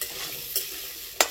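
Papaya and potato frying in a pan, a steady close sizzle with two sharp scraping stirs of a spatula, the second louder, no voices.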